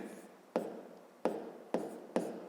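A pen or marker writes a math expression on a surface in four quick distinct strokes, each a sharp scratchy onset fading out, close and fairly quiet with no talk.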